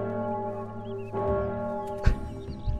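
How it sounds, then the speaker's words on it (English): A church bell tolls in the Townsmen VR game: a sustained, ringing tone with a fresh strike partway through and a sharp clang near the end, heard clearly without any speech. "has the bell that you can toll"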